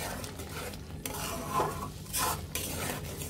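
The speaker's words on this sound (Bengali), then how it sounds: "আদা রসুনের কাঁচা ফ্লেভারটা চলে যাবে এবং ভাজা ভাজা হওয়ার আগ পর্যন্ত এভাবে কষাতেই থাকতে হবে।" Ginger-garlic spice paste stir-fried in a pan for fish roe kofta curry: a spoon scrapes and clatters against the pan in quick strokes over a low sizzle, close up and with no talking.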